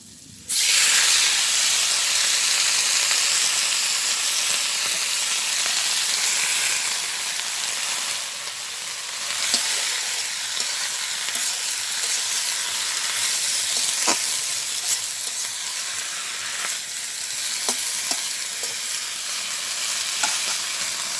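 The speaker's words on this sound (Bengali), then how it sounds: "তেলটা গরম হয়ে গেছে, আমি এখন শাক দিয়ে দিই এর উপরে" Leafy greens hit hot oil tempered with radhuni seeds and whole garlic cloves in a Bengali village kitchen, giving a loud, steady frying hiss that holds throughout, broken by a few faint stirring clicks.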